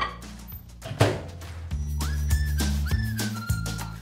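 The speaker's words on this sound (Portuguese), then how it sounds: "O micro-ondas já parou de apitar, Davi" Kitchen microwave oven sounding a series of short tonal beeps as it finishes a two-and-a-half-minute run, while making a healthy carrot cake, heard close alongside low household hum and some handling noise.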